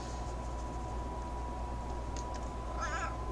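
A big, heavy domestic cat gives a single short meow near the end, faint over a steady electrical hum, with no talking.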